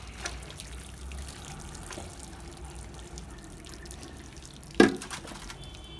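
Soaked wafers set out to drain after boiling, giving off faint steady drips and trickles of water, with a single louder splash near the end, quiet and close.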